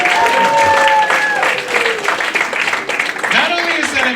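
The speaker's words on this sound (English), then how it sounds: "Clap it up for 42 years." Comedy club crowd clapping and cheering after a clean stand-up bit, loud and close, with a voice talking over the applause as it carries on.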